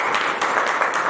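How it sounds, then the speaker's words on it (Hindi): A short burst of audience clapping at a Vishwa Hindu Seva Sangh welcome ceremony in Jodhpur, dense and fairly close, greeting Rohit Sharma. "रोहित जी शर्मा के लिए ताली"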